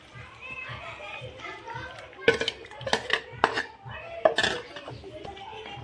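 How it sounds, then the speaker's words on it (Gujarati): Gravy masala being added to a curry of cashews and paneer and mixed in a pan, heard as scattered metal clinks and scrapes of a spoon on the pan, with a few sharper knocks mid-way, over a busy household background. "હવે આપણે આને શાકમાં ઉમેરી દઈશું।"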